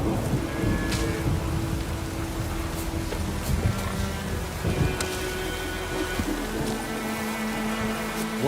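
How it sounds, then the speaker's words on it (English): A heavy downpour in The Witcher 3 hisses steadily across the whole stretch, with low thunder-like rumbles and game ambience underneath and no one speaking. "Let it rain."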